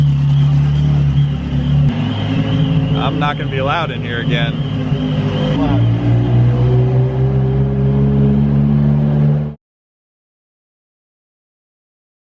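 A straight-piped Ferrari F355 idles with a loud, deep, steady exhaust drone; voices talk over it, and the sound stops abruptly near the end.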